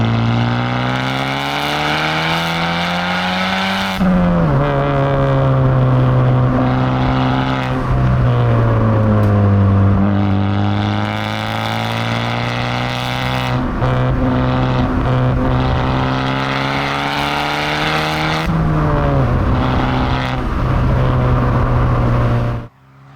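A Honda Civic Type R FK2 engine pulls hard through several gears. Each loud, droning rise in pitch is cut by a brief shift dip before climbing again, heard from inside the car.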